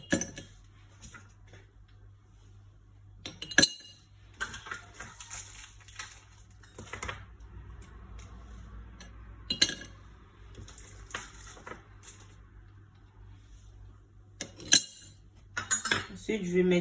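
Ice cubes drop into a glass holding ginger-pineapple juice, a mint leaf and lemon, giving a few sharp clinks and rattles in separate bursts over a low steady background hum.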